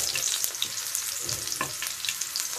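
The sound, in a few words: chopped onion frying in oil in frying pan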